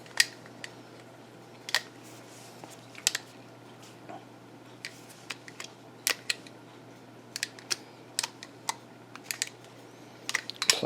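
A blade cutting a slit in the cardboard box of a 1950s Fasco D2060 box fan, a series of faint, irregular crisp snips and ticks over quiet room noise.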